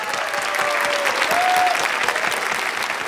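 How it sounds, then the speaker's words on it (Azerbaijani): Sustained audience applause fills a televised masked-singer show, steady dense clapping with a bright tone held for the full three seconds. "Fayıq Ağayev alqış."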